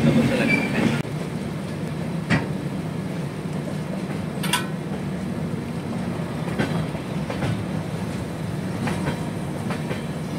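Train 15658 Brahmaputra Mail pulls out of Bongaigaon station in Assam in the rain, a steady close rumble of rolling carriages with rhythmic wheel clacks and a brief squeal.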